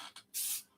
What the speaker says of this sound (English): I want to spray some cinnamon around.